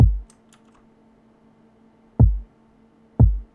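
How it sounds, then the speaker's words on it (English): Three hard, punchy kick drum hits with deep low thump, spaced irregularly with silence between, dry and up close. "simple hard kick"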